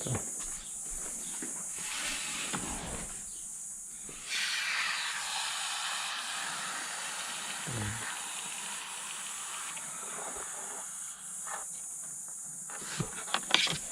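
MXS foam cleaner sprayed into a car's air conditioning vents gives a steady, close hiss that runs for most of the stretch, with brief pauses and a few soft clicks near the end.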